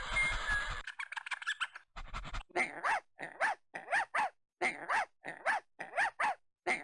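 A dog barks repeatedly in a video game in a steady run of sharp, evenly spaced barks, preceded by a brief burst of noisy game sounds; no one speaks.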